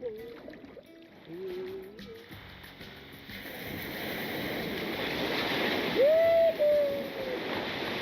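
Pacific Ocean waves wash and surge around a kayak, a steady rushing swell building louder through the clip, with a person speaking briefly at the start.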